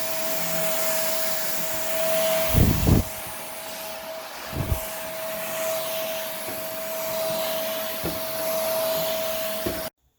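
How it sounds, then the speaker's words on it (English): Moosoo D601 corded stick vacuum runs on stairs with a steady, loud motor whine and airflow hiss, broken by a few thumps and rubbing bumps as the head moves across the steps, then cuts off abruptly. "So this is after just a few seconds of really using this vacuum on a portion of the stairs."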